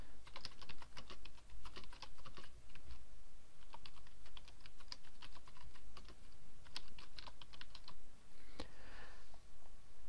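Steady typing on a computer keyboard while entering blog post content, a dense run of close, crisp key clicks with brief pauses, heard alone without any voices.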